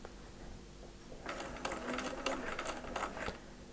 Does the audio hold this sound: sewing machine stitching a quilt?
yes